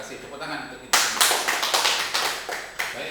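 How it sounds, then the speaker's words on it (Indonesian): Hands clapping at a retirement farewell gathering in Riau, Indonesia: quiet talk first, then clapping bursts in and continues as uneven, scattered claps with a few sharper accents. "Tepuk tangan untuk kita."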